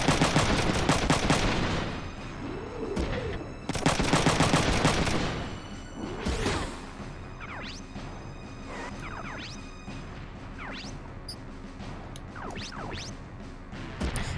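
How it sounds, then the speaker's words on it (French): Heavy cannon fire and explosions in the Front Mission 3 video game, loud repeated blasts with whooshing projectiles and crashing impacts, followed by quieter bursts of gunfire. "les gros canons vont pouvoir nous, tous les deux nous tirer dessus"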